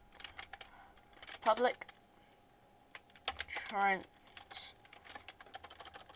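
Rapid keyboard clicks from code being typed on a computer keyboard, a close, steady patter of keystrokes with short spoken phrases breaking in twice over the top.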